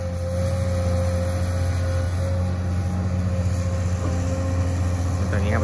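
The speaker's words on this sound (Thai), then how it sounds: "รถอัดทำงานด้วยไปแล้วครับเร่งเครื่อง" At a farm pond dig in Krasang, Buriram, a compactor machine's engine drones loudly and steadily at close range, a constant throbbing hum while someone talks over it.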